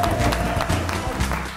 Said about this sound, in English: Why are you cheering?